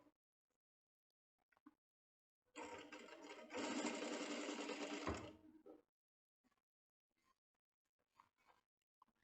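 A sewing machine stitches a seam on a buckled vest, running steadily for about three seconds with a brief pause mid-run, quiet and close, with faint handling noises before and after.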